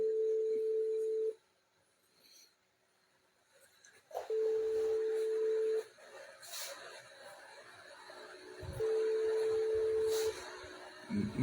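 Phone call being placed on a telephone, with steady call-progress tones in several long bursts separated by pauses and faint background voices.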